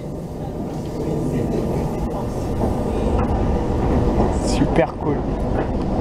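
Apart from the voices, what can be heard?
commuter train set passing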